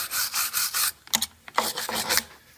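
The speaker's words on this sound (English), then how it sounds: "Before installing it, you need to clean the surface. I like to use a brush." A brush scrubbing the surface of a new rear brake rotor for a Raptor 700, quick bursts of rough bristle rasping close up, in short repeated strokes separated by brief pauses.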